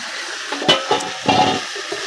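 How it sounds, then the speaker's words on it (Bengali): Vegetables sautéing in a pan while cooking a local shing fish dish give off a soft, steady sizzle, with a few louder crackling bursts and stirring scrapes near the start and middle. "সবজিটা অনেক সুন্দরভাবে কষানো হয়ে গেছে"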